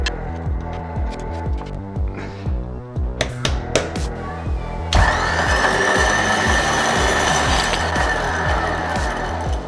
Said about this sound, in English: Winch is working, thank you Cam.